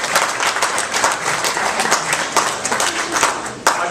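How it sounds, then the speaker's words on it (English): Audience applause for the hotel and restaurant staff at a city State of the City event, steady dense clapping from a room of people for a few seconds, fairly loud with one sharper clap near the end. "Let's give them a round of applause."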